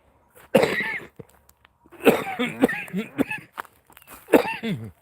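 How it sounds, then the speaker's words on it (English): A person coughs several times in harsh, rasping bursts with brief pauses between them, close and fairly loud. "Now I'm starting to cough."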